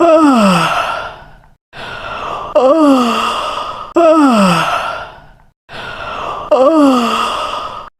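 A voice imitates a yawning hippo with four long, loud drawn-out sighing moans, each falling in pitch and separated by short pauses, heard up close in a speech-therapy exercise.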